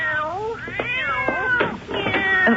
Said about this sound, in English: If you don't mind the cats.